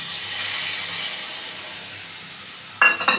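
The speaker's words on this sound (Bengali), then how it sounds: "কষানো হয়ে গেছে, এবারে ফেটিয়ে রাখা দইটাকে দিয়ে দিলাম।" Whisked yogurt poured into a frying spice paste with turmeric and salt while making doi katla, giving a loud steady hiss and sizzle that slowly fades, followed by a brief clatter near the end.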